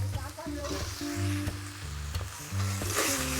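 Chopped tomato frying with spices and Kashmiri chili powder is stirred in a hot pan, giving a steady close sizzle with repeated scraping stirs. A low humming tone runs underneath.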